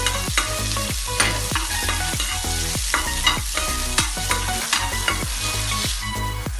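Onions and red chili frying in a pan for a spicy seafood ramen with sardines, loud steady sizzling with regular rhythmic stirring strokes and scrapes of a utensil, up close and free of talk.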